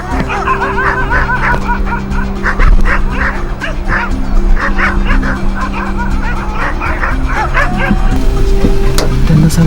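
Dogs in Pune city chase off a striped hyena with a rapid, continuous volley of barks and yips from several animals at moderate distance, over a steady low background rumble.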